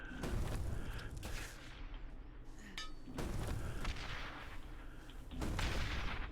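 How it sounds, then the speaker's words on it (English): Bouncy grenades in the game Citadel: Forged With Fire go off in a run of loud, booming explosions with rumbling tails. Several blasts land close together, separated by brief lulls. "But let's lob some bouncy grenades in there"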